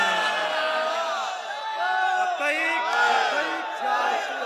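Crowd at a religious gathering chanting a slogan in unison, massed voices rising and falling in loud rhythmic call-like bursts that carry clear sung pitches, close and continuous.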